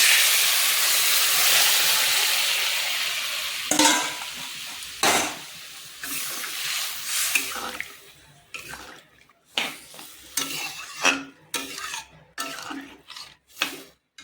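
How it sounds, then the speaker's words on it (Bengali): Boiled mung dal tipped into a hot pan with fish-head curry and stirred in, a hissing sizzle at first that settles into wet stirring and scraping strokes with sharp spoon knocks, close and moderately loud. "এই যে সিদ্ধ করে রেখেছিলি মুগ ডাল, এটা এর মধ্যে আমি দিয়ে দিচ্ছি।"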